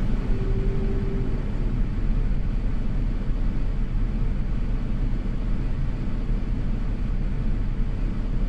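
Airbus A350 engines spooling up thrust in Microsoft Flight Simulator 2024, a steady loud low rumble and roar that holds evenly throughout with no talk.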